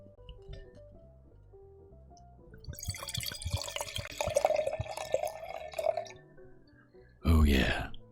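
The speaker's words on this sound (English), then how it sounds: "I'm going to pour." Appassimento wine poured into a glass: a quiet, rising trickle of liquid for a few seconds, then a louder splash near the end, heard close in a quiet room.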